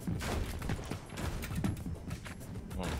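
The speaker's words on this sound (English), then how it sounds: "I hear shots here." Gunfire in a video game, a dense crackling volley of shots running throughout at moderate loudness, with sharp bursts clustered here and there and no clear voices.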